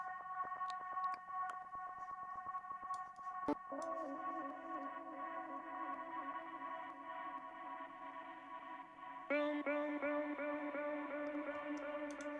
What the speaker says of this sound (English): And also some vocal atmosphere like this